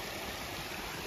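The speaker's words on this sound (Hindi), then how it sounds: "जैसे गिर रहा है पानी" A waterfall at Dhubri Rangamati pours down without pause, giving an even, hissing roar of falling water that stays at one level throughout, with nobody talking.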